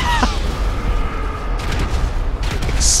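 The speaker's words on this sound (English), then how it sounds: "Explosion." Explosions and blasts in Grand Theft Auto V, a rumbling low boom with sharp bursts scattered through it, loud and close, with game effects layered over it.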